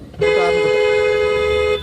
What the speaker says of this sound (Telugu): ఇక్కడ హార్న్ కొట్టాలి